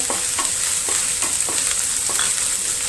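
Crushed green chillies and curry leaves sizzle loudly in hot oil, with a rhythmic series of spatula strokes scraping the pan about every half second over a constant close hiss.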